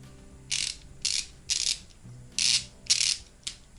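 A ratchet wrench mechanism clicks in six short bursts at a fairly even pace, close and clear, with a faint background hum and no talk.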